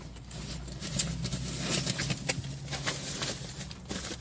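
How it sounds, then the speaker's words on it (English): Rain patters on a car, heard from inside as dense irregular tapping and drumming on the body and glass, steady and fairly close, with no talking. "Now I'm in the car and out is raining."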